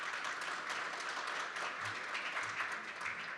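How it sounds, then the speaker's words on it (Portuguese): Soft, distant round of applause from an audience at a construction industry conference session, a steady even patter of many hands heard faintly in the room. "a quem eu peço uma salva de palmas."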